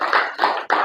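An audience at an Indonesian business mentoring seminar claps their hands in three loud, close bursts of dense clapping, separated by brief dips.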